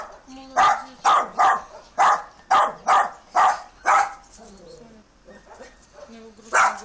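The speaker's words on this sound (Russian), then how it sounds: "Зачем лаешь?" A dog barks in a quick run of about nine sharp, close barks, pauses with soft whimpering and voices, then lets out one more bark near the end.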